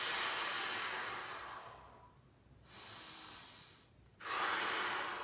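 Deep nasal breaths are drawn during a wall exercise for posture, with soft, airy inhales and exhales in slow cycles separated by brief pauses, close and quiet with no talk.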